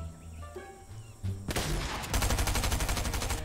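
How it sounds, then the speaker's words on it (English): Heavy gunfire erupts in Fortnite, starting with a faint background rattle and building into loud, rapid, sustained automatic fire with a dense rhythmic crackle, close and intense. "Man, I hear so much firing."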